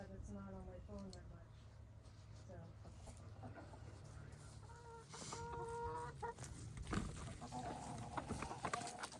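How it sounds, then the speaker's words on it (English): Backyard chickens clucking softly nearby while scratching through and spreading pine straw in a garden, with a person talking over the intermittent clucks. "Good job, chickens."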